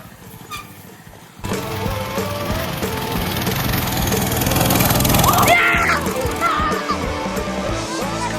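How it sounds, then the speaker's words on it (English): A small Coleman chain-driven minibike engine roars under load as it climbs a steep rocky slope, loud and steady close by with rattling and clatter, then easing off near the end while a voice is briefly heard. "Just a tiny little chain-driven machine here. It just keeps going."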